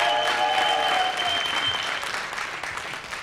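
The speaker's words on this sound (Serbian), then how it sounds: "A molim aplauz." A live television studio audience claps in sustained, dense applause at close range, holding steady before tapering slightly toward the end.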